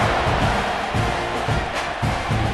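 College football stadium crowd at a Texas A&M versus Samford game, a broad continuous roar of cheering with pulsing low swells as the kickoff unit takes the field.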